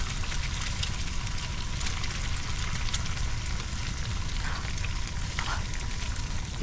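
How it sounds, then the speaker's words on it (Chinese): Food stir-frying in a pan, a dense steady sizzle with faint scraping that runs without pause from start to end, close and fairly loud, with no voices. "刚才炒菜不小心烧焦了"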